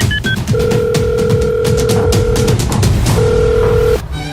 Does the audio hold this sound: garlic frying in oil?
no